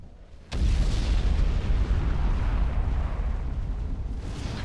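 A sudden heavy blast opens a sustained rumbling roar of bombing-run explosions in the strategy game Supreme Commander 2, staying loud and dense for several seconds before easing slightly.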